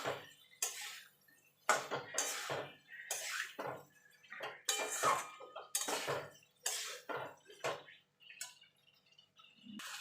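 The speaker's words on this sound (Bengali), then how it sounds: "এবার আমি সজনাটা আর আলুটা দিয়ে দেবো দিয়ে ভালো করে মশলার সঙ্গে মিশিয়ে নেবো" A spoon clatters against a pan in a series of scraping, clanking strokes as drumstick pieces and potatoes are mixed into a spice paste, close and fairly quiet with no talking.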